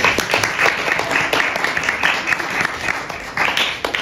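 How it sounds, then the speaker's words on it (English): An audience claps for the bartender at a church wine event, a steady burst of applause that rises and falls for several seconds with a faint murmur of voices mixed in. "A round of applause for our bartender"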